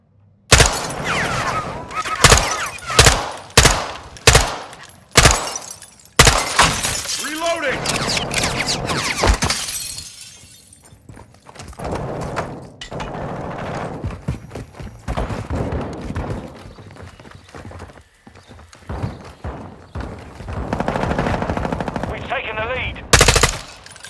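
Gunfire in Call of Duty Modern Warfare II: sharp, loud rapid bursts of automatic shots up close, followed by more scattered firing and blasts, with voices shouting over the combat.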